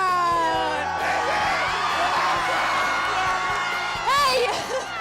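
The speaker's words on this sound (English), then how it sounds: "I'm over here in the midst of the loud crowd." Loud crowd cheering and shouting in the stands at a Southern California high school football game on Military Appreciation Night, a continuous roar of voices with whoops, a few close shouts and a burst of yelling near the end.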